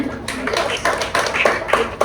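A classroom of pupils claps their hands in short rhythmic bursts, a patterned group clap of several quick beats with small pauses between, close and moderately loud.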